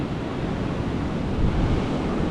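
Sea waves wash steadily at the shore, a dense, continuous roar of surf with wind buffeting the microphone, swelling slightly midway, no voices.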